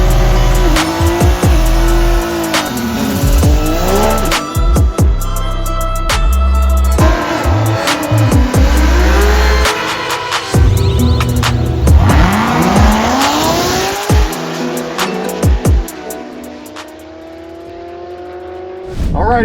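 A C8 Corvette Z06 on drag radials makes a drag strip run, its engine roaring loud and close through rising gear pulls with brief shift breaks and some tire chirp, then fading away as the car pulls off.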